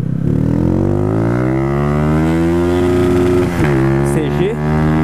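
A Honda CG 125 Fan motorcycle with its original, quiet exhaust hums smoothly and steadily while riding, its tone dipping briefly as if shifting gear, then settling back to an even drone.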